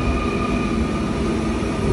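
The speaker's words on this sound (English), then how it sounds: "And here is the train" A long Paris Métro train approaching a station platform on a Sunday, heard as a loud, steady rumble with a sustained electrical hum and tonal whine, no voices over it.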